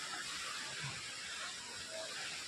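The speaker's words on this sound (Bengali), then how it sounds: "এই ওয়াটারফলসের নাম হচ্ছে সেভেন সিস্টার ওয়াটারফলস" Steady broadband rush of falling water at the Seven Sisters Waterfalls near Gangtok, a continuous hiss-like roar filling the clip without pause or change.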